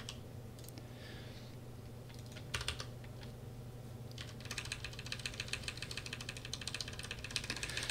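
New computer keyboard being typed on in sparse then rapid bursts of clicky keystrokes, close but fairly quiet, over a steady low hum.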